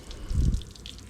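Water trickles and splashes from a Johnson 90 outboard motor during a power pack repair, a short soft burst of flow rising and fading, heard alone at close range.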